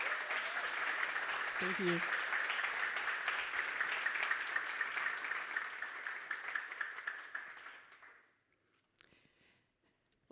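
Conference audience applauding as a speaker takes the stage at a web-development event, a full clapping wash that thins and fades out over several seconds, followed by a brief spoken thanks.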